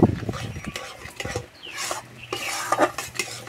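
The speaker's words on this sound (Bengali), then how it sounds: "সবসময় এইভাবে নাড়তে হবে, নাহলে তলাতে লেগে যাবে।" Ripe jackfruit kheer with sugar syrup stirred in a pan: a spoon scrapes and knocks against the pan bottom in steady, close strokes, with a low simmering hiss underneath.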